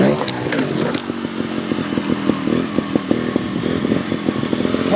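GasGas TXT 300 trials motorcycle engine chugging and popping at low revs as it rolls slowly over a backyard obstacle, with rhythmic throttle blips close by and a voice talking over it.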